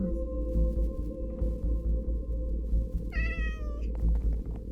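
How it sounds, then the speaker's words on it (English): A Minecraft witch hut cat lets out one clear, bright meow partway through, heard over a steady low game ambience with a few soft clicks around it. "The witch cat!"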